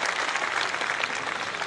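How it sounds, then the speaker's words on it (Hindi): A crowd at a Hindi poetry stage event applauds to welcome a young poet, with brief, dense, even clapping from many hands heard at a moderate distance. "एक बार दोनों हाथ उठाकर मंच के लोग पीछे के लोग जोरदार तालियां बजाकर उसका स्वागत करें"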